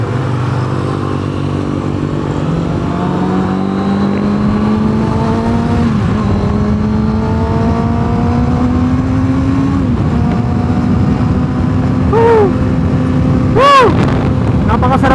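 A Kawasaki ZX-6R sport motorcycle engine drones loudly and close, its pitch climbing as it accelerates, with steady wind rush throughout.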